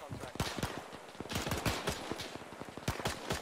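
Bren gun firing in a military video game, shown as a rapid series of sharp, loud gunshots with other gunfire mixed in across the whole stretch, and voices faintly underneath.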